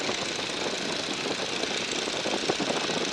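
A Stearman biplane's engine runs in flight, giving a dense, steady, rumbling roar with a faint rapid knocking texture. It is loud and even throughout, with no voices over it.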